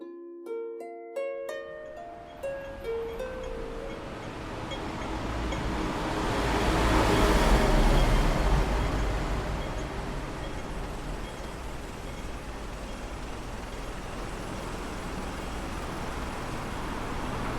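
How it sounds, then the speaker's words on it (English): Morning street in Hong Kong: a few short notes open before a broad, steady wash of traffic and city noise takes over, swelling as a vehicle passes close around the middle, then settling into a constant roar. "That is the sound of walking through the streets of Hong Kong at this time in the morning."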